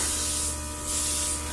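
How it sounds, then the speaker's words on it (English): A Luminess Air airbrush sprays bronzer onto a face in two soft, steady hissing passes separated by a brief dip, close and fairly loud over a faint motor hum, with no talking. "I'm just going to lightly spray some bronze where the sun would naturally hit"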